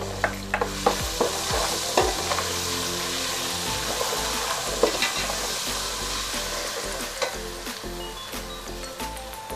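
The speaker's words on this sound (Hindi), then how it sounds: "अदरक लहसुन डालेंगे" Ginger garlic paste sizzles in a pan with browned onions and moong dal for khichdi, a steady loud frying hiss broken by repeated clattering stirs of a spoon against the pan, with no talking.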